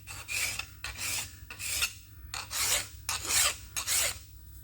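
A hand file rasps across a steel part to deburr it, with about seven rhythmic back-and-forth strokes, each a bright scraping swipe separated by short pauses, close and clear without talk.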